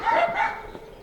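Dogs on a ranch-style property give a quick burst of barking and yipping, fairly close and moderately loud, fading into softer whimpers.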